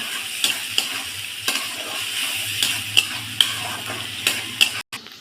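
Spice paste with salt and turmeric fries in a pan for a radish and fish curry. A steady sizzle runs under repeated scraping strokes of the stirring spoon and sharp metallic clinks against the pan.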